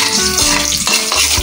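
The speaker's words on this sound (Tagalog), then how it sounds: "Isusunod na natin ng sibuyas. Haluin uli natin" Onions being stirred in a hot pan for chicken tinola, a steady loud sizzle and fry with scraping stir strokes throughout, close up and with no talking.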